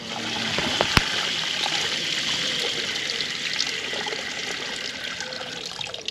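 Steady running water splashes continuously for several seconds, a constant broadband rush with a brief clack near the start.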